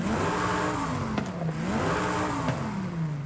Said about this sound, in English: Now, listen what happens if I bump it up to the race cams.